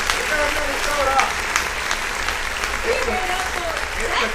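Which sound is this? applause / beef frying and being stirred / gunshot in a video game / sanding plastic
applause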